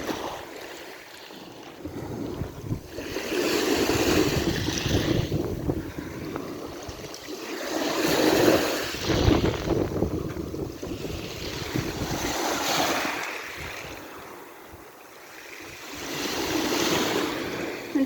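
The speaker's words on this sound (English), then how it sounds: "The waves seem to keep coming higher and higher, like they're chasing after me." Ocean waves wash up on the shore in slow, recurring surges, each swelling and then receding, close and loud, with wind buffeting the microphone throughout.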